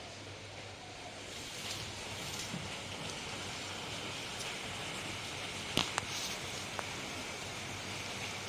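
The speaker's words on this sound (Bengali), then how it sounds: "বুঝতে পারছো বৃষ্টি পড়ছে।" Steady rain falls outside on a gloomy morning, a continuous even hiss with a few sharper drip ticks near the end, heard alone without voices.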